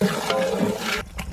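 Curd is poured into a biryani masala of ground coriander, mint and green chili for chicken biryani, giving a steady wet, gurgling pour for about a second before it cuts off, followed by softer splashes.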